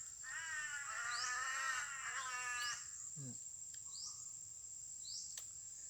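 Crows caw in a few harsh, nasal calls from a rural outdoor spot, beginning with a long buzzing call and followed by scattered shorter caws over a steady high insect drone.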